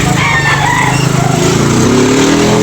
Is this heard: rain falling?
no